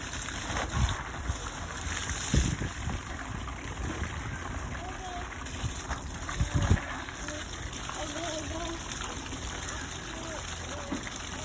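Trousers being washed by hand in water slosh and splash, with a few heavier sloshes standing out over a continuous watery wash while voices murmur in the background.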